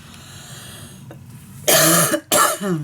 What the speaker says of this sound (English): Sorry guys that I need to cough so much